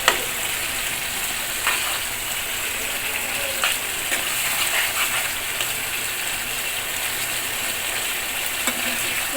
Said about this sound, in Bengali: এই যে এখন আমি চিকেনগুলা দিয়ে আরেকটু কষাবো।